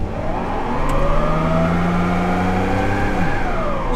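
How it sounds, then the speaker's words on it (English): A 1997 Chevrolet Camaro engine revs hard in first gear for a burnout, a loud, close, steady roar whose pitch climbs and then holds, with no talk over it. "All right, will this thing do a burnout?"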